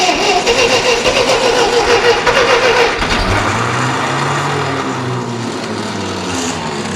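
A Ferguson TEA20 tractor's old starter motor cranks the engine with a loud, dense mechanical churn for about three seconds. The engine then catches and runs with a steady low throb that eases slightly toward the end.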